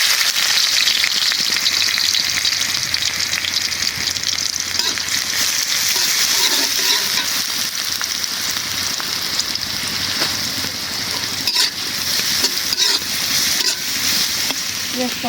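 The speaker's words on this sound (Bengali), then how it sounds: "পেঁয়াজটা ভাজা হোক" Onions fry in a reduced amount of oil for a bottle gourd curry, giving a steady, dense hiss that holds at an even level throughout, close and loud, with occasional small clicks and faint movement.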